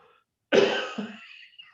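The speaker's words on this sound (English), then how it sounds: "now I'm coughing" A single harsh cough bursts out close by, followed by a short rough throat-clearing sound.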